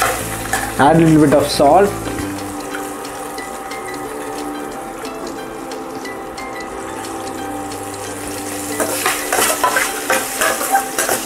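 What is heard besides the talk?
frying and stirring in a pan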